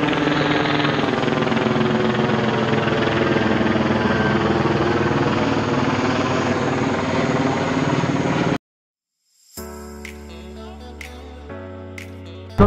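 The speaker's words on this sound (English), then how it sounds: "They're about to land this helicopter on the freeway." A helicopter landing on a California freeway makes a loud, steady rotor and engine roar for about eight seconds. It then cuts off abruptly, and quieter, different sounds follow.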